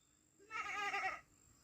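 A voice imitates a goat's bleat, one loud wavering call about a second long with a shaky, trembling tone, standing alone in a quiet outdoor village setting.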